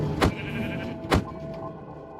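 Two short sheep bleats from Minecraft, each a quick nasal cry about a second apart, clear and fairly close over quiet game background.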